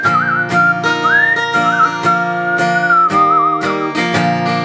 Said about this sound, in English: You'll whistle a tune, and I'll whistle a tune.